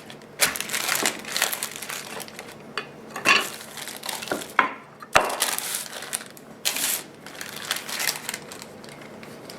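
Cinnamon applesauce gingerbread dough is rolled out between two sheets of parchment paper, giving close, soft crinkling and rustling with intermittent crunchy pressure bursts and no talk.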